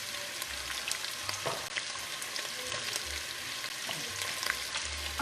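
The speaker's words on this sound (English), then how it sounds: "now to that, I am going to add my onions with that" Onions fry in a pan with a steady close sizzle, broken by occasional stirring scrapes and soft clunks, no voices over it.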